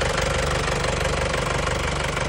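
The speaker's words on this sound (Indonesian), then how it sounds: "Nyala ini mesin ini." An Isuzu Panther diesel engine idles up close with a steady, rapid clattering knock and a deep, even rumble that runs without change throughout.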